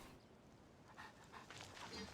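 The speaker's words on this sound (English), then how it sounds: "Look at all the puppies." Puppies in a video game pant and whimper softly, with several quick, faint, high-pitched yips and breaths overlapping in the last second over quiet game background.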